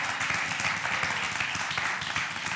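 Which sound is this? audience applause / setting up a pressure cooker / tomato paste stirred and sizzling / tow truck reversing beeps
audience applause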